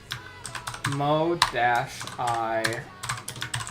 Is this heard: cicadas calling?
no